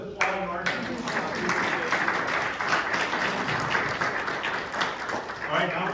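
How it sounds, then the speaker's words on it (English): Audience at a local government presentation on school district property taxes applauding a presenter, a dense sustained burst of clapping that fills the whole stretch at moderate distance. "let's applaud Mark."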